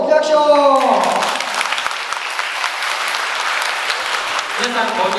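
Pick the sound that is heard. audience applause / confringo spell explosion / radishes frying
audience applause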